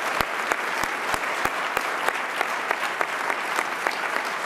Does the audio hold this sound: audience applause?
yes